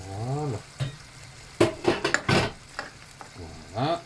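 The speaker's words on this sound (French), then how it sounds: "Là, ça mijote bien." Chicken rolls in a cream sauce simmer and fry in a pan with a soft, low sizzle, broken by a few utensil scrapes and clinks and rising squeaks at the start and end.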